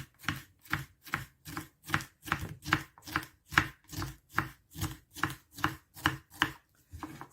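A knife chopping food into thin strips on a cutting board for a Thai basil beef stir-fry: about sixteen evenly spaced, crisp chops in a steady rhythm, close and clear with short silences between strokes.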